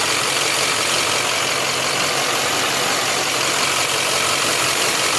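A Duramax diesel pickup engine idles with a steady, loud, even rumble and clatter, close by and unbroken, with no talking.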